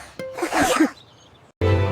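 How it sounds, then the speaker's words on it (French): A cartoon sneeze in a children's nursery-rhyme song, a single breathy burst lasting about a second, followed by a short silence and then music resuming loudly. "Les éternuements les plus stupides de tous les temps."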